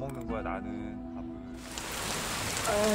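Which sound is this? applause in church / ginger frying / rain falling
rain falling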